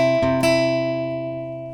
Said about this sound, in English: We're going to pluck the 5th string and then the 2nd string and then the 5th string and then the 2nd